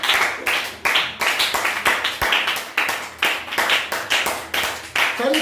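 A congregation clapping to acclaim Jesus Christ, sharp hand claps in a lively rhythmic pattern, loud and continuous throughout.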